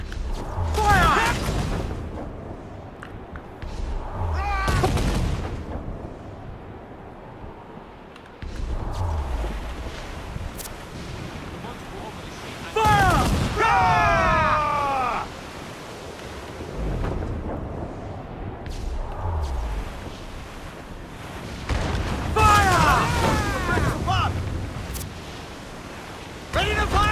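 Ship cannons fire in a naval battle in Assassin's Creed Black Flag, heavy booms landing in several separate bursts under shouted commands from the crew.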